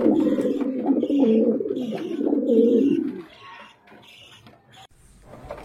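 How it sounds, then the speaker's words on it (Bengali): A healthy pigeon cooing close by in a series of throaty, rolling coos for about three seconds, then falling quiet as faint chirps and background noise remain. "খুবই সুস্থ কবুতর, দেখতে পাচ্ছেন কি সুন্দর করে ডাকতেছে।"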